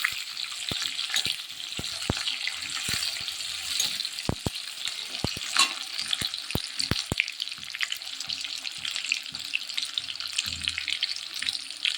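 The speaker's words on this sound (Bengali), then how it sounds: "পেঁয়াজটা হালকা লাল করে ভাজবো।" Onions fry in a pan for a Bengali duck egg and potato curry, giving a steady close sizzle with scattered sharp crackles and pops, plus occasional stirring and faint water sounds, no talk.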